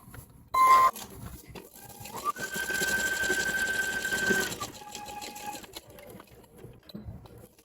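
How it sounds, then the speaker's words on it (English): A domestic sewing machine stitches fabric for a gift card holder, with short bursts including a backstitch at the start and a steadier run in the middle, close and moderately loud, with a few quiet gaps. "Make sure you back stitch at the beginning and at the end."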